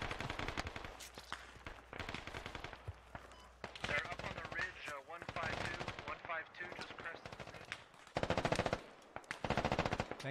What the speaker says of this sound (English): Still trading rounds all along these hills.